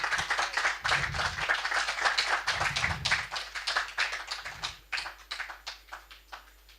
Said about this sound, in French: Et applaudis parce que Dieu dit va confirmer.